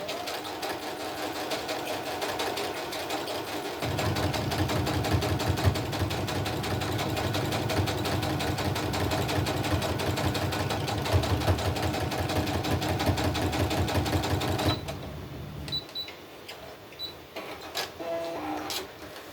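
Sewing machine stitching small fabric pieces together for a crazy quilt, a loud continuous mechanical whir running steadily for most of the stretch, then stopping, leaving a few faint clicks and handling sounds; close up, no talking.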